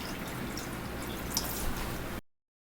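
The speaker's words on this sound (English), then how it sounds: "we're going to pour them over the cucumber slices" Brine pours steadily over cucumber slices in plastic containers for about two seconds with a soft, continuous splashing wash, then cuts off into silence.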